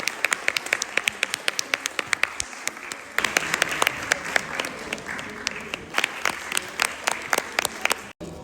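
An audience at a hair color demonstration in a Lahore hotel claps loudly and continuously with sharp individual claps throughout, along with some background murmur.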